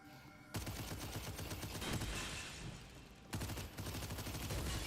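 Sustained automatic fire from an engine rifle in a roguelike first-person shooter, a dense loud stream of shots running almost unbroken for several seconds, with a short pause partway through before the firing resumes.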